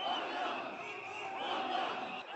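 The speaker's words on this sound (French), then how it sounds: "La foule scande des slogans hostiles au gouvernement" A large crowd in Nairobi chants anti-government slogans in a continuous, dense roar of many voices. The sound is heard at a distance and stays steady throughout, with no single voice standing out.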